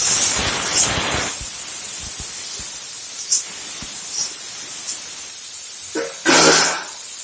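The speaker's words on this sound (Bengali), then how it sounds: "এবারে ভালো করে ভেজে নেব।" Yardlong beans and eggplant frying in a pan with turmeric and salt give off a steady, fairly loud sizzling hiss that swells into a stronger burst near the end.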